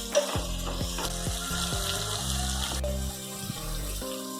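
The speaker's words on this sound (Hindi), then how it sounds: "और इसे हम तेज आंच पे भूनेंगे" Garlic, ginger and green chilies fry over a high flame, a steady close sizzle broken by repeated scraping stirs of a spatula through the pan.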